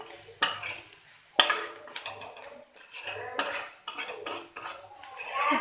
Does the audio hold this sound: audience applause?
no